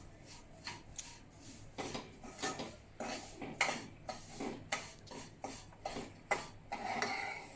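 Semolina roasting in ghee over low heat for sheera is stirred in a pan, a spoon scraping and clinking against the metal in repeated strokes, close and fairly quiet, with no voices.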